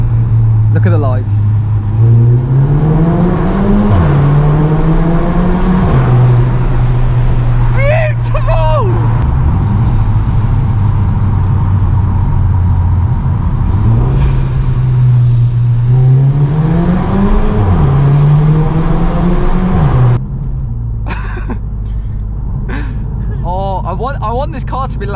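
A Volkswagen Scirocco revs loudly while driving, its engine note rising and falling through several pulls under constant cabin and road noise, with people talking over it.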